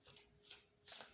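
Tarot cards shuffled by hand at close range, two quick riffling swishes about half a second apart, soft and crisp with no speech.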